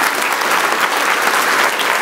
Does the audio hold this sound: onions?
no